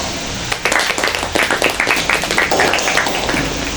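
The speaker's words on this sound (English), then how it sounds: "Let's give them a round of applause" A short burst of clapping from a small group of students in a classroom, close by and somewhat uneven.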